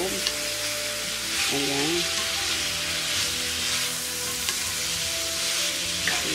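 Zucchini, green beans and bell pepper frying with soy-soaked ingredients in a pan, a continuous crackling sizzle with occasional stirring knocks, and a brief spoken word.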